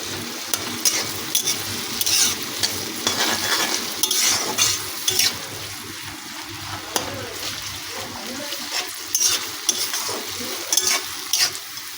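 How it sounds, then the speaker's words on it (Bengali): Chopped onion fries in hot oil for a chicken curry, with a continuous sizzle broken by repeated scraping and clinking of a spoon stirring the pan, close and fairly loud with no talking. "পেঁয়াজটাকে আমি তেলের সঙ্গে ভালো করে ভেজে নিচ্ছি।"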